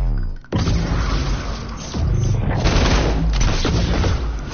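Loud, dense bursts of gunfire and explosions from a shooter video game, sustained and heavy after a brief opening gap, with a voice faintly under the din.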